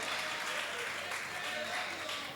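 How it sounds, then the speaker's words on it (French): A church congregation applauds throughout, dense continuous clapping from many hands with voices mixed in. "Applaudissons pour le Seigneur Jésus"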